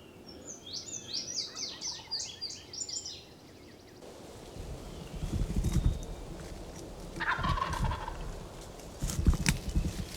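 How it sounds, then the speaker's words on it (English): A wild turkey gobbler struts on a field edge, its gobbling bursts ringing out strongly over the first few seconds, followed by quieter low rumbles and rustling outdoor sounds, with a brief mid-pitched call later. "He's sitting there strutting and drumming right in front of me on this field edge."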